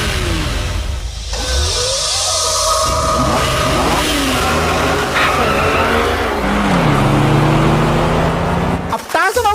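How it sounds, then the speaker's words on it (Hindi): A car in the video game GTA 5 speeds off at full throttle, its engine revving loudly and climbing in pitch with tire squeal and skidding. The sound is close and continuous before cutting off abruptly at the end. "टार्जन और मैं पूरी रफ्तार से निकल पड़े थे हम किडनैपर्स को पकड़ने के लिए।"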